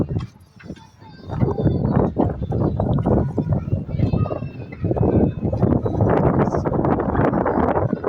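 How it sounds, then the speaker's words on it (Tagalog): Strong wind buffets the microphone in loud, continuous gusts with low rumbling roar, while a person talks over it throughout. "napakalakas po ng hangin."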